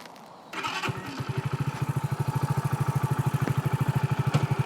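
An Orcal Astor 125cc motorcycle engine cranks and catches after a brief pause, then settles into a fast, steady thumping idle, close and loud with no talking.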